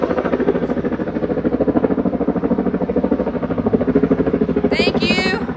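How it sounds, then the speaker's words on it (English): A loud, close helicopter throbs with a rapid rhythmic chop throughout, its pulsing blades steady over a deep engine drone, with a brief high screech near the end. "Helicopter."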